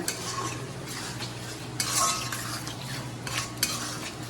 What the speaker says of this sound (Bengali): একটু নেড়ে দিই একটু চিনি দিয়ে দিলাম